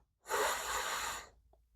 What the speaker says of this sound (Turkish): Verirken burundan derin nefes alıyorum.